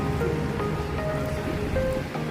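A steady wash of sea waves in Sardinia, close and fairly loud, with a few faint tonal whines in the background.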